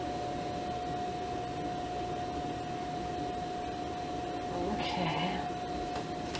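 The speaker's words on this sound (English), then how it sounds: "see that nice stitch, the overlock? Okay, I'll sew along here." An overlock sewing machine (serger) stitches and trims fabric with a steady, even whir and hum that runs the whole time, with a faint voice speaking briefly near the end.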